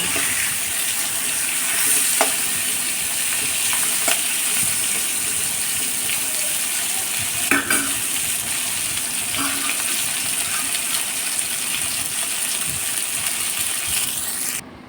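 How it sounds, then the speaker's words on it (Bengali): Eggplant and drumstick pieces frying in oil in a wok, a long, even sizzle with a few scattered scrapes and clinks of the spatula, steady and close, without speech. "তেলে বেগুন, ডাঁটা দিয়ে দিচ্ছি।"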